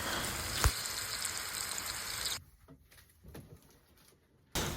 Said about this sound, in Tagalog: nagprito lang taog salmon